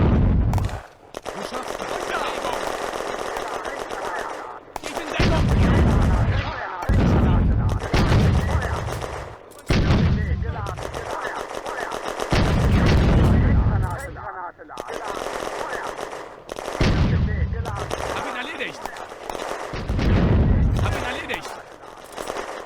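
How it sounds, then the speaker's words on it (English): Simulated WWII Eastern Front battle in the game Firefight, with Soviet infantry in woods under mortar, rifle, machine gun and tank fire: dense, loud, sustained bursts of automatic gunfire and heavy blasts in rolling waves, nearly continuous with brief gaps. "The Soviet infantry in the southern woods are under mortar, rifle, machine gun and tank fire."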